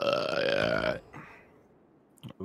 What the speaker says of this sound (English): Even the burps sound better on this mic.